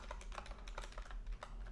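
Quick, light keystrokes on a computer keyboard as a command is entered for a Raspberry Pi setup, a short run of soft, close clicks with no talk.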